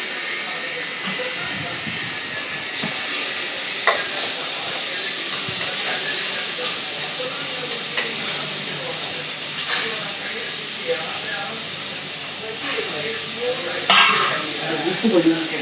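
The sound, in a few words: tomatoes and onions frying and being stirred in pan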